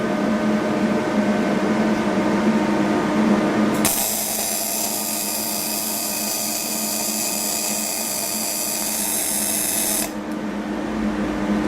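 A bore welder runs during a weld resume, its steady high-pitched machine whine cutting in after a few seconds of low shop hum, holding constant for about six seconds, then dropping away.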